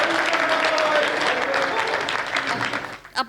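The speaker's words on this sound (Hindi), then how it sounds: "एक ताली तो भाई साहब के लिए बजा दो" A comedy show audience claps together in a steady burst of applause for a few seconds, with voices mixed underneath, fading near the end.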